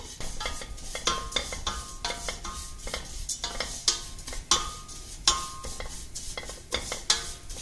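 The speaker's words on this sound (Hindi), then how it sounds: "इसलिए हम इनको ऑयल में थोड़ी देर रोस्ट करेंगे।" Vermicelli roasting in oil in a pan, stirred with a utensil, giving soft repeated scraping and clinking strokes over a quiet sizzle, close and moderately faint.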